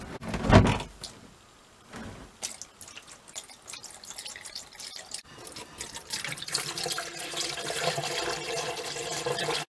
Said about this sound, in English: The last thing to do is just pour some of this down all of the drains and just fill up the P-traps with antifreeze